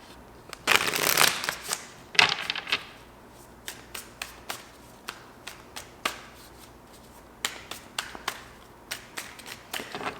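Tarot cards are shuffled during a reading, with bursts of riffling and a series of soft, close slaps and flicks as cards are cut and laid down.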